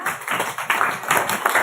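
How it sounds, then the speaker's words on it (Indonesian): A classroom audience applauds a student named Mas Aska, a dense, steady patter of many hands clapping close by, with no voices over it. "Tepuk tangan untuk Mas Aska."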